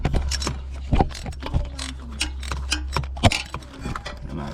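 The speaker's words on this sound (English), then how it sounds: "Put your ratchet on there." A ratchet wrench removes a spark plug on the driver's side of an Oldsmobile Delta 88 during a tune-up, giving a run of quick, close clicks in uneven bursts over a low steady hum.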